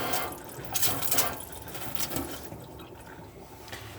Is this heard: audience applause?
no